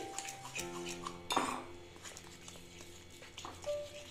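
A semolina and egg batter with Eno being whisked in a bowl, light clinking and scraping of a utensil against the dish, with a sharper knock partway through, quiet and close.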